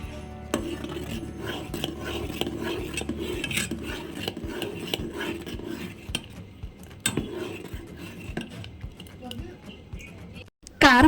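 A utensil scrapes and clatters around a metal pot as a puffed rice batter with cumin and turmeric is stirred, a busy rhythmic mixing that runs the whole time with a louder knock at the end.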